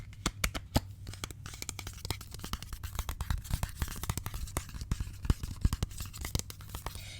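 Tarot cards being shuffled up close in a quiet room, soft riffling snaps and crisp flutters repeating in quick bursts.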